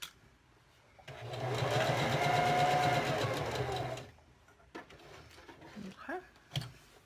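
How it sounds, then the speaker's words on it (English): A sewing machine stitches fabric for a small toy bunny in a steady, whirring burst of about three seconds, followed by quieter handling noises and a few soft clicks. "once you get going on the sewing machine"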